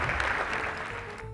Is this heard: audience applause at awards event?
yes